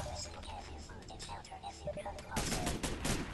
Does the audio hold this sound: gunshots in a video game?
yes